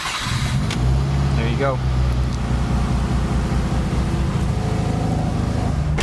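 A Subaru engine, running stock on its MAF sensor, cranks and fires right up, then settles into a steady idle rumble close by while someone talks over it.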